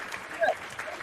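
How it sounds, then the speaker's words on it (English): A short burst of audience clapping and applause for a WWE Extreme Rules wrestling moment, steady and moderately loud for about a second, with a voice faintly mixed underneath. "Give yourself a round of applause"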